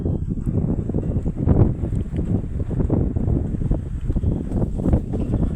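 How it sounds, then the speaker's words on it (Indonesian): Strong gusting wind buffets the microphone outdoors at a mountain viewpoint facing Mount Wilis, a loud continuous low rumble with surging bursts and no speech. "kencang banget kawan-kawan anginnya"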